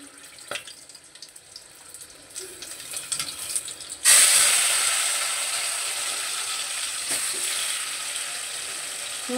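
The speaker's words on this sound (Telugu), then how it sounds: "ఇప్పుడు చేప ముక్కలు వేస్తున్నా" Fish pieces dropped into hot oil already seasoned with green chillies and cumin, for a fish curry, set off a sudden loud hiss midway through that then settles into a steady, continuous sizzle after a few quiet clinks and crackles.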